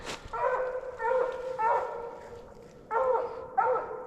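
Coonhound barking at a raccoon up a tree at night in the woods, a series of loud, drawn-out bawling barks in irregular bursts with short gaps between them.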